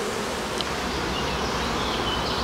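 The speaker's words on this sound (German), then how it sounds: "Die Bienen fliegen verhalten heute." Honeybees fly around their hive in a steady, dense buzzing hum heard close up, with individual bees passing faintly through the drone on a day at the edge of a rain front.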